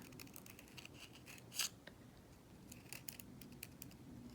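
Scissors snip crepe paper while shaping a leaf, giving quiet, close crisp snips with one sharper cut standing out over faint room hiss and no talking.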